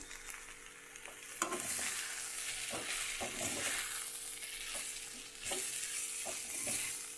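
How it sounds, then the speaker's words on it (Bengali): Potatoes fry in a pan with a steady sizzle, while a utensil repeatedly scrapes and stirs them at close range in a loose, uneven rhythm. "তাই জন্য দেখো আমি আলুগুলো ভাজা করে নিচ্ছি"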